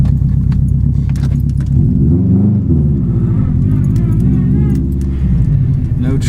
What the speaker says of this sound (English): Ah, speed bump.